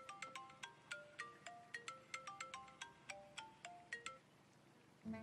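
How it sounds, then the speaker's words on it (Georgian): A mobile phone ringtone plays a bright, repeating electronic melody of quick tonal notes in steady bursts, fairly close and clear, cutting off just before a brief thud at the end. "სულ ტელეფონი რეკავს."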